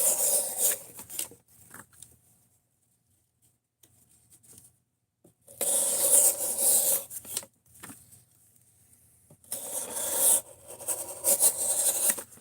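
A knife with a rolled edge and an unsuitable blade grind is forced through wood, giving bursts of rasping, scraping cuts separated by quiet pauses, close and moderately loud.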